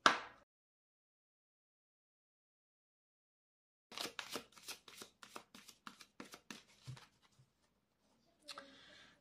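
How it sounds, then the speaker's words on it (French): Oracle cards being shuffled and drawn for a let-go reading: a brief riffle at the start, then a run of quick crisp card slaps and flicks, followed by a short final shuffle, close and clear with no talk. "je vais tirer une carte du lâcher-prise pour vous."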